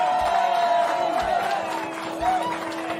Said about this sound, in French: Toujours autant de monde avait fait le déplacement et la foule s'enjailla.